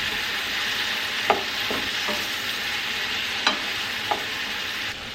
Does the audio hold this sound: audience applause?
no